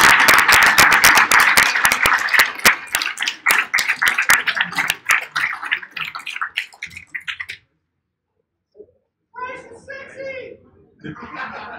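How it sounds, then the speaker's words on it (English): Convention audience at a Q&A session breaks into a round of applause, dense clapping that thins out and fades, followed by a short silence and then a few voices talking. "A little round of applause because these guys are behind the scenes."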